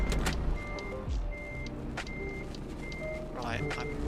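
Steady evenly spaced reversing beeps from a truck in the video game Euro Truck Simulator 2, repeating at a moderate level over a low engine rumble, with a player talking throughout.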